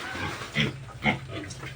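A native pig grunts and snorts up close, two louder grunts standing out amid softer snuffling, with no talking.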